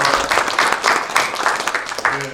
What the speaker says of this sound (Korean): 우리 감사의 마음으로 잠깐 일어서시면 박수 한번 하겠습니다